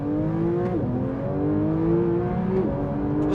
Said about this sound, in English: that's one of the best modern car sounds I've heard recently